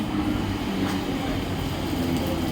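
A slow suburban local train bound for Dombivli rumbles steadily at night with a low mechanical drone as it rolls slowly into platform 1, with faint voices mixed in.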